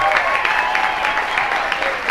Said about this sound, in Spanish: otro aplauso para los novios